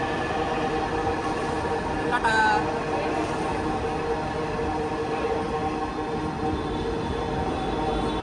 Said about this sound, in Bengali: bye bye metro rail